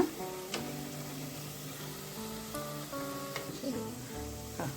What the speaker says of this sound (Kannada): ಇದನ್ನು ಕೂಡ ನಾವು ಚೆನ್ನಾಗಿ ಫ್ರೈ ಮಾಡ್ಕೊಳ್ಳೋಣ ಸ್ವಲ್ಪ ಬ್ರೌನ್ ಆಗೋವರೆಗೆ ಫ್ರೈ ಮಾಡ್ಕೊಳ್ಳೋಣ